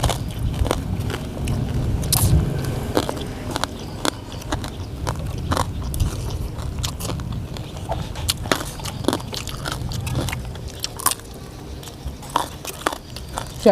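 Crispy pork rind crunched between bites of khanom jeen with spicy fish curry, loud close crackling bites and chewing in irregular bursts, with faint background noise.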